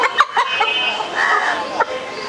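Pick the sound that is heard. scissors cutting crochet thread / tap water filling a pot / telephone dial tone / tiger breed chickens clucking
tiger breed chickens clucking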